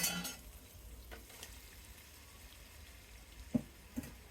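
Prawns go into a hot pan of fried ginger-garlic paste for a Bengali prawn biryani, giving a soft, steady sizzle with a couple of sharp clinks near the end.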